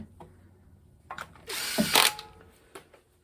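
A ratchet spins cylinder head bolts down on a 1951 Buick Special engine, a few quiet clicks followed by a louder, fast whirring burst of ratcheting at close range, then quiet.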